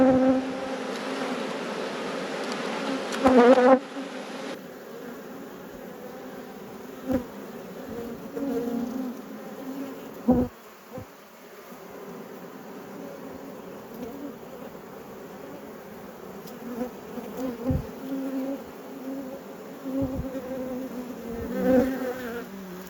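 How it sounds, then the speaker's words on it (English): Honey bees buzzing around an apiary hive, a steady close hum of many wings with occasional louder buzzing passes near the microphone and faint handling knocks, no talking. "Those bees"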